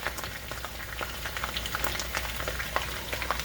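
Potatoes and onions fry steadily in a pan, a constant close crackle and sizzle with scattered sharper pops throughout.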